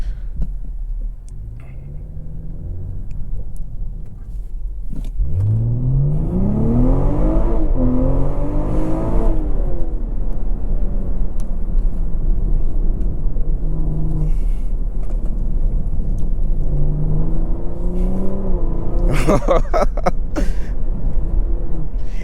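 A 2024 BMW M340i xDrive Special Edition engine accelerating, heard from inside the car as a loud, deep rumble whose pitch climbs steadily through the revs, then drops with a shift and rises again.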